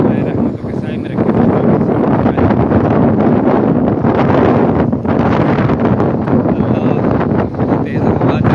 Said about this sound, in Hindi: तेज़ हवा चल रही है रिम झिम मदीने की गलियों में